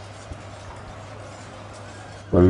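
Horses gallop in the battle game Shogun 2: Total War, a steady drumming of hooves under battle noise, and a voice cuts in loudly near the end.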